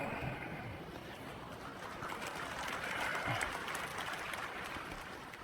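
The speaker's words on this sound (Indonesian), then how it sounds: "Jangan terlalu sering tepuk tangan." An audience at a speech in Indonesia applauds with a steady wash of clapping from many hands, moderately distant, swelling slightly before easing off.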